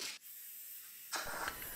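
A DIY hobby powder coating gun bought off eBay sprays an axe handle in two close, breathy hisses, a short puff followed by a brief pause and a longer rough burst.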